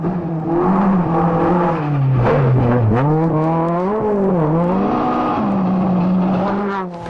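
A Hyundai Excel rally car with a twin-cam 1.5-litre engine runs close by, a loud steady engine tone rising and falling as the revs shift.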